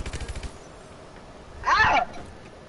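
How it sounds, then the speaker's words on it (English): A short burst of MP40 submachine gun fire in the Advanced Warfare video game, lasting a fraction of a second, fairly faint against quiet background noise. "I'm sniping with my MP40"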